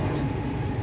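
Intercity Express 17011 running at speed between Charlapalli and Ghanpur, a steady, loud low rumble of wheels and carriage noise that never lets up, close by and with no voices over it.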